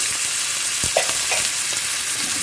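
Dosa chutney ingredients with tomato fry in a pan, a loud continuous sizzle with a few faint stirring knocks, close up and without speech.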